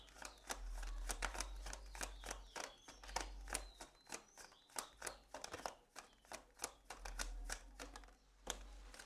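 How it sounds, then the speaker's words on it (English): Tarot cards shuffled by hand in a rapid string of soft riffling flicks and slaps, close and fairly quiet over a low background hum. "One card, please, Spirit."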